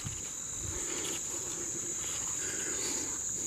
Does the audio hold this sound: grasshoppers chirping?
yes